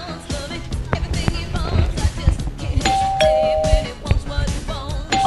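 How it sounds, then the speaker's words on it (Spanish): A doorbell at a house door rings with a sustained chime tone amid a busy, noisy background of movement and clatter, sounding fairly near. "vamos a ver el timbre por aquí"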